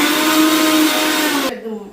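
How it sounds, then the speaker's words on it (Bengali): A kitchen blender runs loud and steady, its motor whine holding a constant pitch for about a second and a half before being switched off and winding down. "এখন আমি সম্পূর্ণ জিনিস ব্লেন্ড করে নেব"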